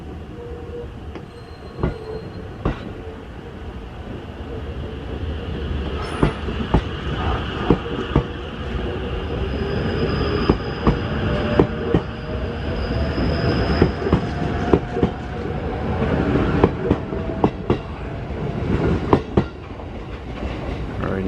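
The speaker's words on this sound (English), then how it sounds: "Okay, that train is now departing." Five-car E257 electric multiple unit leaving a station in Mishima, Japan, a continuous rumble of wheels on rail with repeated clickety-clack joints, a thin wheel squeal and motor whine building as it pulls away.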